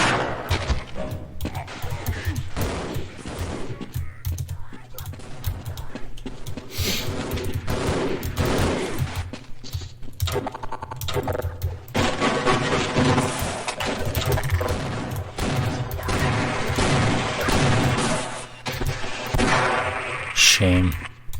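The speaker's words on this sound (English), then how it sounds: "There's a turret. Where is it? Where's the turret? I heard it." Turret gunfire in Half-Life, rapid automatic bursts rattling loudly and repeatedly over about twenty seconds amid crashes and game noise, with someone speaking over the firing.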